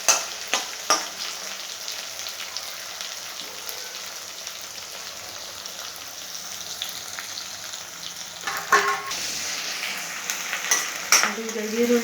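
Onions frying in a generous amount of oil, a steady close sizzle with scraping stir strokes and occasional sharper crackles, running continuously without talk.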